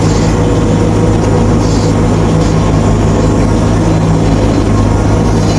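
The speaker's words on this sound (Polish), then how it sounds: "Bo jeszcze pociąg jedzie." A train rumbles past close by during the wheat harvest on a farm, a steady heavy low roar with rail clatter throughout, loud and continuous with no voices.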